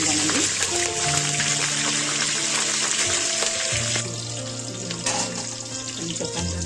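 Curry leaves dropped into hot oil for vegetable biryani, a continuous hissing sizzle under a speaking voice, with a low steady hum in the background.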